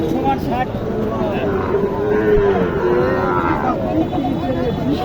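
A cow moos in long low drawn-out calls close by at a cattle market in Naogaon, Bangladesh, with people talking and background noise throughout.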